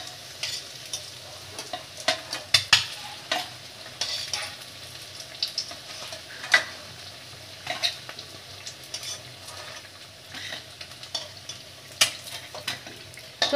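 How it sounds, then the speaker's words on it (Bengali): Eggs frying in a pan for egg curry, a soft continuous sizzle broken by repeated sharp clinks and scrapes of a utensil against the pan. "যে ডিমগুলো আমরা লাল লাল করে ভেজে নিচ্ছি, দুবার উল্টে দিয়েছি।"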